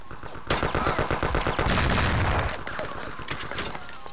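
A Thompson submachine gun in the Mafia game fires a fast, loud automatic burst of evenly spaced shots for about two seconds, then single trailing reports and echo taper off.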